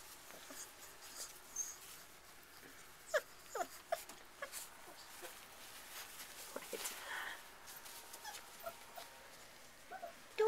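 Bullmastiff puppies in a nursery whimpering and scuffling, with soft, sparse squeaks, paw taps and rustles in a quiet room, faint throughout.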